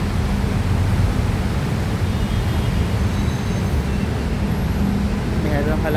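Steady traffic rumble beneath the Skyway S3 elevated highway, a dense low roar of passing vehicles that stays constant and fairly loud throughout.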